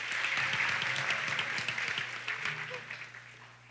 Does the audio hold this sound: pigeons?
no